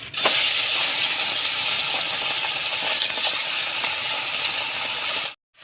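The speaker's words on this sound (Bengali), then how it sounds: "কড়াই গরম হয়ে গেছে তেল দিয়ে দিচ্ছি আমি মাছ আমি ভেজে নেব" Fish frying in hot oil in a wok: a loud, dense, continuous sizzle and crackle lasting several seconds, close by and steady, with no talk, cutting off abruptly at the end.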